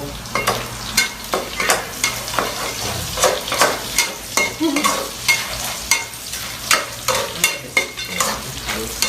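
Shallots and garlic fry in a pan, sizzling steadily while a spatula scrapes and stirs in a quick, fairly regular rhythm, close and loud, with no voices.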